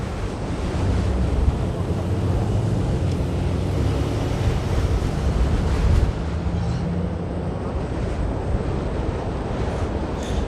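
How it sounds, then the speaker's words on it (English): Strong wind buffeting the microphone outdoors in Queens, New York City, a loud, constant roaring rumble that stays heavy the whole time with slight gusts. "it can't possibly get any windier than this"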